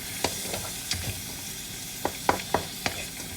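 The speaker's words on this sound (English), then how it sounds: "So let this saute for about 1 to 2 minutes" Vegetables sautéing in a pan for vegan fried rice, a soft steady sizzle broken by a few sharp clinks and scrapes of stirring, close and fairly quiet, with no talking.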